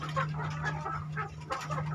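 Chickens on a poultry farm cluck in overlapping bursts at moderate distance over a steady low hum.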